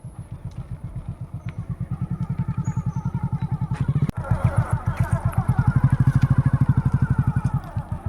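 A motorcycle engine idles with a rapid, steady putter, then revs up slightly and keeps chugging nearby.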